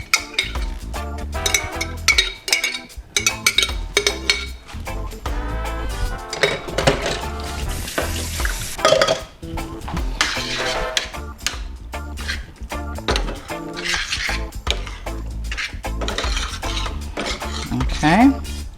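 Thawed homemade tomato sauce goes into a pan of zucchini and is stirred, with a utensil clanking and scraping against the pan in busy, irregular knocks and clinks up close, and no talking.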